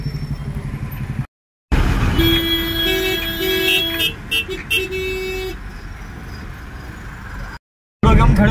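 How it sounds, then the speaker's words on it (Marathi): Road traffic in a jam, with vehicle engines rumbling close by and several car horns tooting in short repeated bursts and held tones, a voice speaking at times amid the din. "इकडे बघा ट्रॅफिक मध्ये फसल्यात चांगला"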